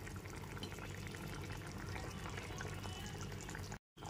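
A pabda fish curry with fried eggplant simmers in a pot, giving a steady, faint, dense bubbling hiss that continues evenly before cutting out near the end.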